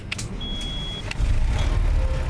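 Engine hum of a truck idling in American Truck Simulator, then rising to a steady louder rumble, with a few brief clicks and a faint tone early on.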